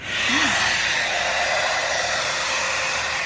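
An Agaro blow dryer runs continuously while blow drying layered hair, a loud, steady, close-up roar of rushing air with no voices.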